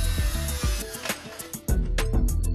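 Power-tool trimming of a Makrolon polycarbonate sheet sign face, a loud whirring machine tone broken by repeated sharp bites and clacks as the cutter works the plastic edge, close and steady.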